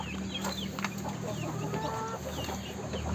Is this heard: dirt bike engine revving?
no